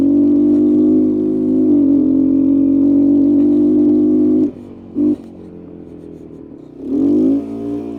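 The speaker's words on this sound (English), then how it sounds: "We're getting full throttle now," Old three-wheeler engine held at full throttle, a loud steady rough drone with rising revs, then a sudden cutoff, a brief blip, a quieter idle and a final rev-up.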